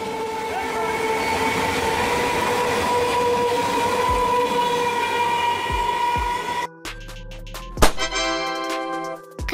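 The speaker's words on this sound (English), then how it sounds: "Conventional Train." A conventional passenger train runs past with a steady, loud rumble and rolling wheel noise for most of the span, then the sound cuts abruptly to quieter, different sounds near the end.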